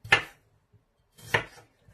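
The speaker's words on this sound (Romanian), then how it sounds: "Voi tăia ardeii grași roșii." Two sharp knife chops through red bell peppers on a cutting board, evenly spaced about a second apart, close and clear with quiet between strokes.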